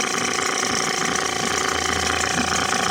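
A Mercury 5 HP long-shaft outboard motor runs close by with a steady, loud, unbroken drone and no pauses or change in pace.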